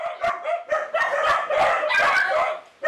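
Several dogs barking and yipping in a crowded hoarding house, a rapid overlapping burst of close, loud barks lasting a few seconds.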